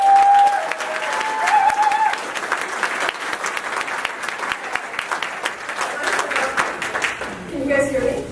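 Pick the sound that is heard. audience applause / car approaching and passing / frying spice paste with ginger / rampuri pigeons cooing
audience applause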